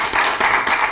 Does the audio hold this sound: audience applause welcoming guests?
yes